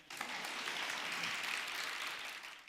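An audience at a Hindi motivational speech claps steadily for a few seconds, dense applause that swells slightly and then tapers off.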